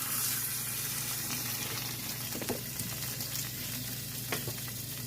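Seasoned fish frying in a pan, a steady close sizzle and crackle of hot oil that holds evenly for several seconds, with a few faint clinks and no talking.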